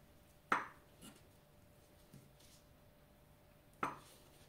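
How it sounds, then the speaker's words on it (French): A knife cuts peeled potatoes and boiled eggs into small cubes on a board for a beef salad, giving two sharp knocks and a few softer taps spread apart, close and clear in a quiet kitchen. "on va commencer à couper les légumes, des petits morceaux"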